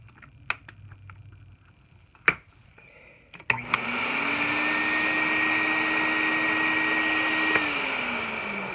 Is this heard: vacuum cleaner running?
yes